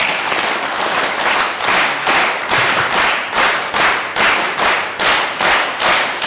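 A crowd at a ceremony claps in unison, loud rhythmic bursts of hands striking together in a steady beat, about two claps per second, close and sustained.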